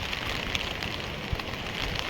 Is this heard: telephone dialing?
no